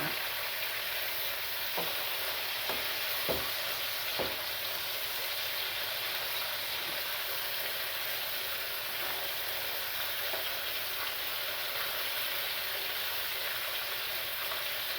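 Pork sizzles steadily in a pan, a continuous dense frying hiss with a few faint clicks and scrapes early on, close and even throughout with no talk.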